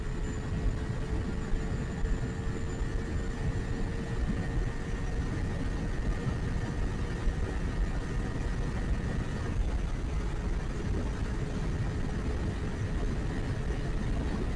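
A steady engine hum runs evenly throughout from a Modenas Kawasaki Z250 motorcycle with stock exhaust and engine vibration, a constant droning tone with no breaks, like idling.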